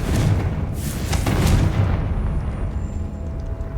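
A Confringo blasting spell goes off in Hogwarts Legacy, set in the catacombs: loud, close booming explosions in quick succession, fading into a low rumbling tail.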